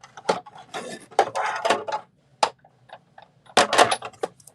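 Pads for a handmade stationery folio being cut, giving irregular bursts of crisp scraping and crunching that come in quick clusters with short pauses, close and moderately loud, with no talking.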